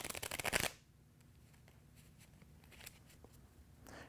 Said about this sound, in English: You can even shuffle again if you like, retaining the top card on top of the deck.